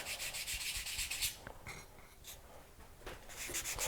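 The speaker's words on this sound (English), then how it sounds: "I'm going to sand it around on both sides." Bronze clay sanded on both sides, a close, steady dry rubbing and scratching that pauses briefly midway before resuming, with no talking.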